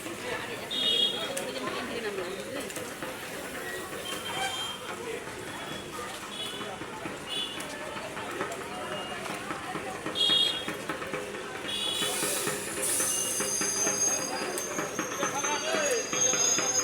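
A train rumbles and clatters at the Raiganj railway station platform, a continuous mid-distance rolling noise with some squealing wheels toward the end. Voices talk over it.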